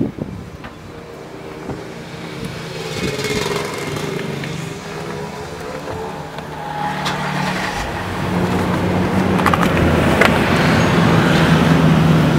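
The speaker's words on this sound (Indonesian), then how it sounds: "jadi pada saat mesin menyala, dia nyalanya seperti ini ya" Engine of a 2010 Toyota Land Cruiser running at a steady idle, a close, continuous low rumble with a smooth mechanical hum that holds steady throughout, with no voices.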